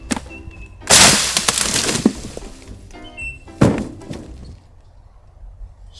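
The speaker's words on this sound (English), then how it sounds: "Fridge accidentally falls out of the back of your car." An iFrost portable fridge drops out of the back of a truck, landing with a loud crashing thud followed by clattering, then a second heavy impact a few seconds later before things go quiet.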